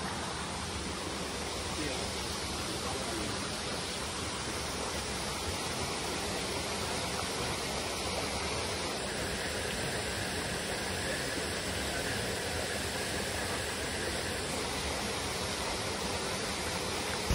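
A tall waterfall roars in a steady, unbroken wash of rushing water that stays constant and fairly distant for the whole stretch.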